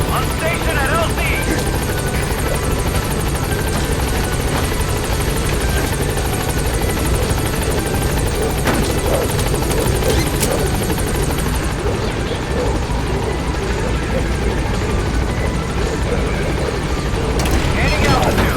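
A military helicopter in Metal Gear Solid V arrives at a landing zone with a dense, continuous rotor and turbine roar, loud and close throughout, with a radio voice speaking over it.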